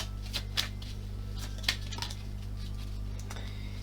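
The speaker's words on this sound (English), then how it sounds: "we're gonna pull some self-mastery cards out as well" Self-mastery cards being pulled and shuffled from a deck, with a few quick papery flicks and slaps over a low steady room hum, near and fairly quiet.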